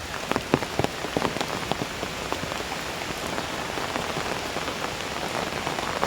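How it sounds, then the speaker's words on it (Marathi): Steady rain patters on a hard surface, dense and even, with a few sharper drops tapping nearby. "दहा वाजल्यापासून पाऊस पडतोय तो अजून पाऊसच आहे"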